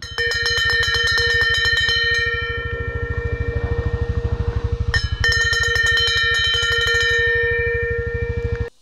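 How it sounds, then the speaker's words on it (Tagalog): The iconic doorbell at Bizimont Bikers Haven rings in a rapid, continuous metallic trill, loud and close, pausing briefly midway before ringing on again and stopping abruptly. "Ito yung iconic na doorbell ng Bizimont."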